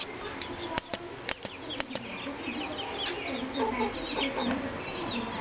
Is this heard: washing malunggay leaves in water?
no